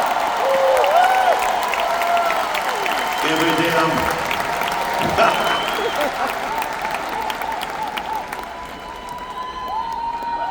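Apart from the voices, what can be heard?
crowd clapping and shouting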